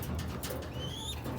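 Male Lahori and Homer pigeons coo softly, with a faint low call and a brief higher whistle-like tone over steady background noise, and no one speaking.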